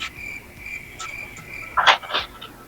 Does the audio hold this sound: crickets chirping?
yes